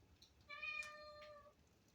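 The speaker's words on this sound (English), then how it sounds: "If you hear a cat, that's just my little stray cat." A stray cat meows once indoors near an open sliding door, a single clear drawn-out call of about a second over quiet room tone.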